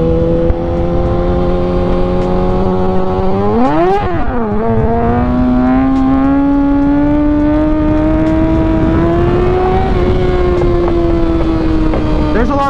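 A motorcycle engine holds a steady high rev near 6,000 RPM for a wheelie in crosswind, with a sharp throttle blip and surge midway and then a slowly rising, sustained whine, loud and close.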